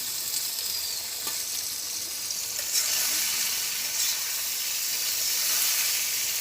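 Shrimp and a few pieces of catla fish frying in hot oil in a pan in a Bangladeshi village kitchen, a loud, steady sizzle with crackling and a brief stirring scrape, no talking.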